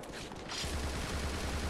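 Gunfire in the video game Bullet Witch, a rapid stream of shots rattling on steadily after a brief lead-in, fairly faint and distant in the mix.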